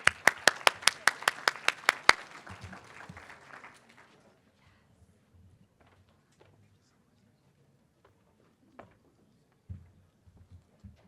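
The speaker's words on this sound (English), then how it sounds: "Can I get a round of applause for Victor Armstrong?" A burst of about ten sharp, evenly spaced hand claps rings out at a keynote talk on suicide and the mental health crisis. It lasts two seconds, then thins to a few scattered, faint claps and small noises.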